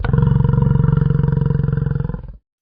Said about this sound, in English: Yak,